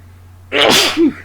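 A single close, loud human sneeze bursting out abruptly, with a short wheezy tail as the breath is drawn in right after, against a quiet indoor background.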